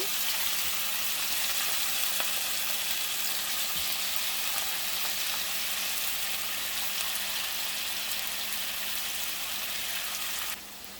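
Cauliflower 65 deep-fries in hot oil, giving a steady, dense sizzle that runs evenly throughout and drops off slightly at the very end. No talk is heard.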